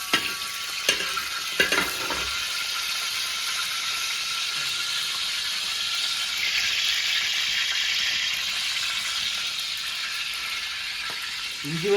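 Chillies fry in hot coconut oil in an uruli with a loud, continuous sizzle. A few sharp clinks and scrapes come near the start, and the frying swells in the middle.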